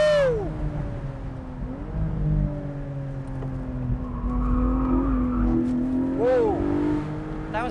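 A Porsche 718 Boxster GTS 4.0 with PDK gearbox revs and roars nearby, pitch swinging up and down with gear changes, as people talk over it.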